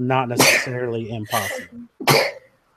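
Sneezes, with two or three sharp bursts breaking up a person's speech, loud and close.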